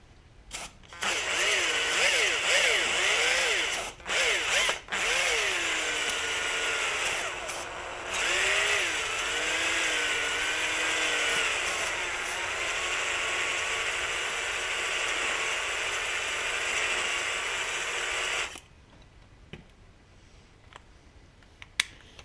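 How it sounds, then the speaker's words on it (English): A power drill honing the cylinder bore of an old REO engine under restoration, with lubricant on the hone: a steady, loud whirring grind that shifts in pitch and runs about seventeen seconds before stopping abruptly, with a few clicks afterward. "I'm going to hone the cylinder"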